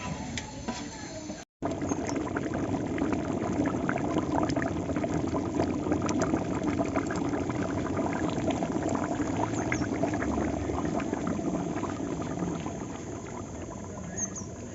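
Water pours steadily into a chicken curry cooking pot on a village wood-fired stove for several seconds, a continuous splashing gush with a brief dropout near the start.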